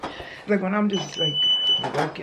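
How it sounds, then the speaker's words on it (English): A home alarm that signals when anything opens gives a thin, steady electronic tone lasting under a second, sounding partway through under someone talking. "that's my alarm. It signals anything that opens."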